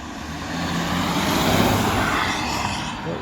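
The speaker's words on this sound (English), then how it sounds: "There it is, 530D ride for today, 250 brake horsepower and DPF delete." A BMW 530d with about 250 brake horsepower and its DPF deleted pulls up, its broad, steady engine and road rumble holding at a constant level throughout.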